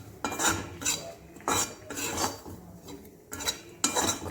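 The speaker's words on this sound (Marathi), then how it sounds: "खोबरं सुद्धा आपण रंग बदलूपर्यंत परतून घेणार आहोत" Grated coconut is sautéed in a pan until it changes colour, a utensil scraping and stirring in repeated rough, rhythmic strokes at close range, with no one speaking.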